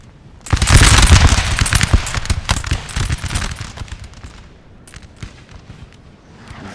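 Musket volley fire in Napoleon Total War at the Battle of Waterloo, a loud crackling burst of many shots at once followed by scattered, fading musket pops over distant battle noise.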